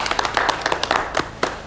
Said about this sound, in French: On va applaudir Vanessa